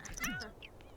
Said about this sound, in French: Thomas, il est en train de miauler parce que tu lui marches sur la patte là